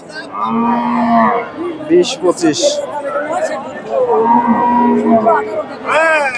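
A dairy cow with her calf, an eight-litre milker, moos at the Bogura cattle market. There are a few loud, drawn-out, wavering lows, one after another, under constant chatter from the crowd and someone speaking close by.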